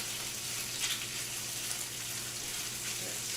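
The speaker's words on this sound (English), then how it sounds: "Our pork belly is sizzling away quite nicely right now." Pork belly sizzles steadily in a hot pan, a close, even crackling hiss with faint scraping, no voices.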